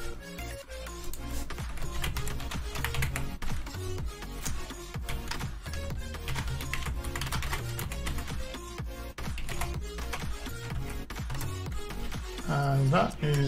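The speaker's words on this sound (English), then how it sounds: "shouldn't be typing in that" Rapid clicking of computer keyboard keys, typed in quick irregular bursts that run almost continuously, fairly close and moderately loud.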